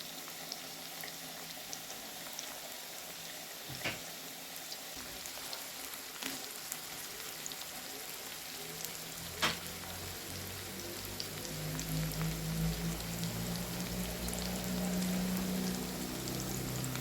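Onion and carrot frying in a pan for a vegetable sauté, a steady crackling sizzle across the whole stretch that grows louder and fuller toward the end, with a few sharp clicks and no voices.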